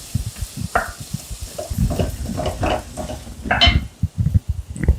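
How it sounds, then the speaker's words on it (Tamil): Onions sizzle and crackle in a hot pan, with repeated scraping and stirring sounds throughout. "இதை நல்லா வதக்கிக்கணும்."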